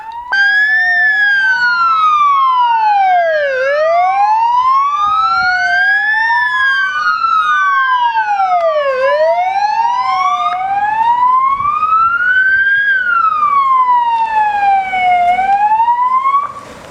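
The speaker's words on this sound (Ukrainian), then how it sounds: "Натужно вили прощальні сирени швидких." Several ambulance sirens wail together at a funeral in overlapping rising and falling sweeps, loud and steady throughout, with no voices.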